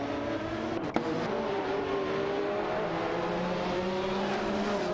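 Race cars, including a Dow 962 LM and a Porsche 911 GT1, compete in a video game race, their engines droning steadily and evenly throughout with no talk.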